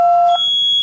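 A home smoke detector sounding a fire alarm: a loud, piercing electronic beep that holds steady, then jumps to a higher, shriller tone that continues to the end, with no voices.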